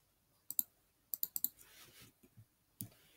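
Sharp clicks of a computer keyboard spacebar being pressed: two taps, then a quick run of four, and one more near the end, close and crisp over a faint background with no talking.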